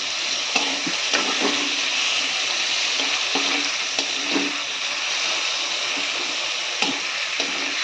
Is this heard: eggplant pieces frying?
yes